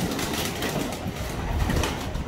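Pigeons coo softly and repeatedly nearby, their low murmuring calls blending into a constant background hiss.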